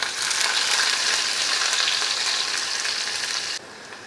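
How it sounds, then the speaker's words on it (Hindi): Finely chopped onion fries in a pan for khichdi, a steady close sizzle with a dense crackling hiss that drops abruptly to a softer level just before the end. "3 से 4 मिनट हम पहले प्याज को फ्राई कर लेंगे।"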